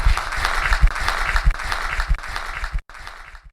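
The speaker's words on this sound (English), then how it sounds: "let's all rise and applaud our guys here" An audience rising to applaud at the close of a podcast recording, a short burst of scattered clapping from a small group that quickly fades out.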